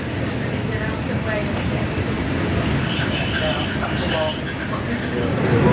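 Train rumble and wheel noise build steadily as it slows into Ulleskelf station in West Yorkshire, a low continuous roar with faint high squeal, louder in the second half, no talk.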